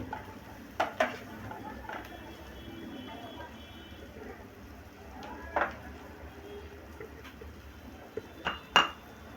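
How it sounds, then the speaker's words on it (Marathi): A small spoon stirs turmeric into egg bhurji in a pan, giving a few scattered metallic clinks and scrapes over a steady low kitchen background. "अर्धा चम्मच हळद टाकायची आहे, छोटा चम्मच, आणि मिक्स करायचं आहे."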